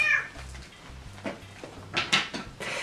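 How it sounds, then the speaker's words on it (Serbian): A pet cat purrs in a low, rhythmic rumble close by, broken by a short meow at the start and brighter cat sounds near the end. "To sam pogledala po tome kako prede."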